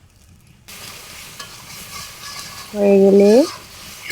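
Ground spices (coriander powder, cumin powder and salt) sizzle steadily in a pan for a rural-style beef and ash gourd curry, with stirring scrapes and a brief high squeaking tone, while a voice speaks briefly.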